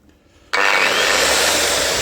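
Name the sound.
cutting scrap metal with a 230 mm angle grinder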